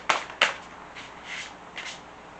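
A couple of sharp riffles of new tarot cards followed by softer shuffling and sliding of cards, close by and quiet.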